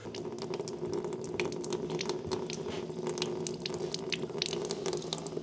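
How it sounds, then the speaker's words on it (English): Water runs steadily from a kitchen tap after a water filter installation, a continuous splashing flow into a sink with faint dripping over a low steady hum, fairly quiet and without speech. "the instructions say we need to turn on the tap and let it run for half an hour"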